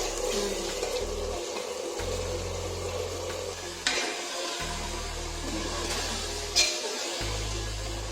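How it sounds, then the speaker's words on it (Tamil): Steady running water pours continuously into a pot of rice for mushroom biryani, a broad rushing wash with low rumbling underneath and no voices. "இதில் 2 டம்ளர் அரிசி 4 டம்ளர் தண்ணி ஊற்றுறேன்"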